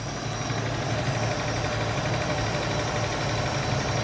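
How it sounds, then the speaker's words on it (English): A Holden HQ ute engine idles steadily after its carburettor has been cleaned, giving a constant low rumble with slight vibration and no talk. "straight away now we've got the car idling"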